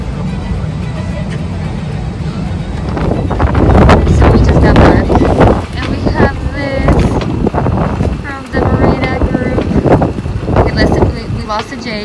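Strong wind buffets the microphone with a heavy low rumble throughout, while people talk over it at an outdoor wedding.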